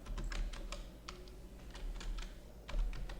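Keys clatter on a computer keyboard in quick, uneven bursts of light taps, close and fairly quiet, with a stronger keystroke near the end.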